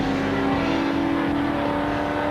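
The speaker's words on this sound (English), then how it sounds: "their Group N Daewoo sounded healthy as they headed a gaggle of other cars" Rally cars race along a trail in Africa, a Group N Daewoo at the head of a pack, engines droning loud and continuous as several cars pass close together.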